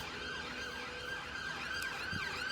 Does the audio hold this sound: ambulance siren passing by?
yes